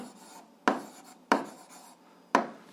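Three short, crisp strokes of a pen scratch across paper while an eighth-grade algebra solution is being written out, each stroke a close, sharp scrape fading quickly into quiet.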